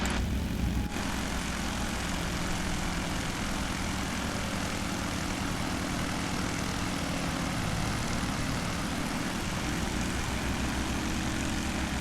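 Dense continuous engine drone of a BN-2 Islander twin propeller aircraft in Microsoft Flight Simulator 2020, loud and steady for the whole stretch after a brief softer opening, with no talking.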